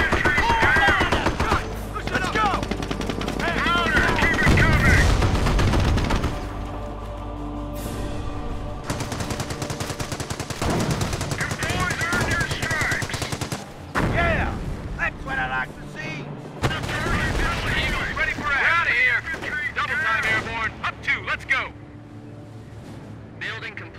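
Battle gunfire from the Company of Heroes video game, with dense machine-gun bursts, rifle shots and artillery blasts rolling continuously throughout, loud and layered, with a soldier's voice calling out over the combat.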